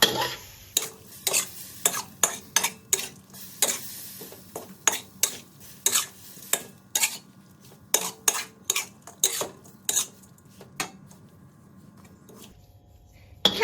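Rapid metal clanks of a spatula against a wok amid a steady sizzle while stir-frying spicy seafood with basil, irregular bursts of stirring and scraping, loud and close.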